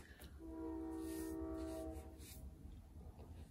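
A train passes close by and sounds its horn in one sustained, loud multi-tone blast lasting about a second and a half, with a low rumble continuing underneath before fading.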